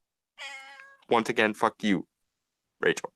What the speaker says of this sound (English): that is my cat being noisy